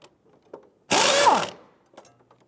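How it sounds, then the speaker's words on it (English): A 15mm deep socket ratchet with extensions cranks on a shock absorber nut of a 1999-2004 Jeep Grand Cherokee, one loud close half-second burst of rapid clicking amid faint workshop clatter. "We're gonna go ahead and use our deep socket and extensions to go ahead and try and loosen that nut"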